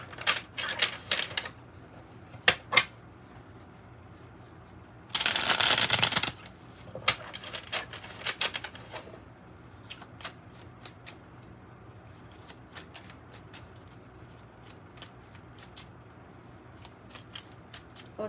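A tarot deck is shuffled with soft riffles and card handling, then one loud, dense shuffle burst of about a second midway, followed by quieter scattered card taps. No one speaks.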